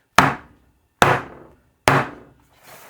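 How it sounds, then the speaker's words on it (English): Cake pans filled with batter are slammed down on a kitchen counter three times, each a loud sharp thud that decays quickly, evenly spaced about a second apart. "Harley, we are going to slam the pans"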